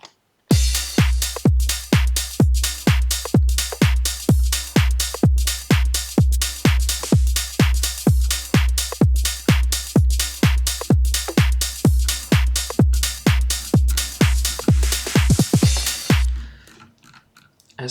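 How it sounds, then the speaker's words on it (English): Funky house drum loop built with a Max for Live drum, a punchy four-on-the-floor kick with crisp hats and percussion in a tight repeating groove, loud and upfront, stopping abruptly near the end. "So at this point the whole drum loop sounds like this."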